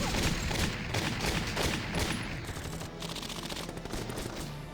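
Dense, continuous gunfire from the video game Valkyria Chronicles Remastered, rapid machine-gun bursts and overlapping shots forming a loud, sustained fusillade throughout.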